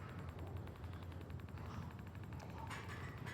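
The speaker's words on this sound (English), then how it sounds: "If you listen carefully, you can actually hear the machine working in the background, that little clicking sound" A MagnaWave PEMF machine clicks in rapid, regular pulses during a horse's therapy session, a faint but continuous ticking rhythm running steadily in the background.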